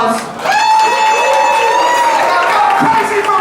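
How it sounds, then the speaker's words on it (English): A comedy club audience applauds and cheers, loud crowd noise with whoops rising over steady clapping, while a voice sings or shouts a sustained tone above it. "One more round of applause."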